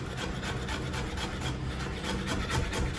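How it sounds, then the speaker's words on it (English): A knife chops an inch of fresh ginger very fine on a board for a Goan potato bhaji, a fast, continuous run of close, rough tapping and scraping with no voices. "now we have taken here 1 inch of ginger which we are going to chop very fine"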